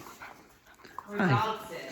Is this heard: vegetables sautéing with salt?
no